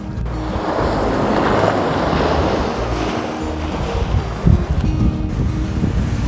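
Morning surf breaks along Keawakapu beach on Maui, with a continuous rushing wash of waves and wind buffeting the microphone, plus a brief louder gust or thump near the end.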